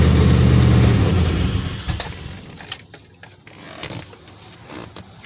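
A car engine idles through a homemade true dual exhaust with an exhaust leak at loose bolts, a loud steady low rumble at first that fades quieter, with a few sharp metallic clicks and taps nearby.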